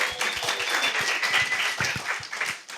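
An audience at a design and innovation community gathering claps in a round of applause, with individual hand claps distinct within a moderate, fairly close wash that rises and tapers off.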